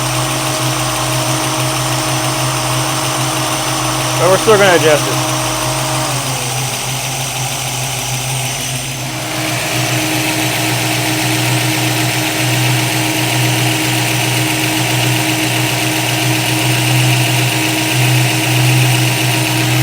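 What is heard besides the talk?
1965 Mustang engine idling with 650 Holley carburetor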